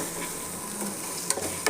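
Salt and chili powder stirred into a meal maker masala curry with a spoon, a steady close scraping with two sharp clinks near the end.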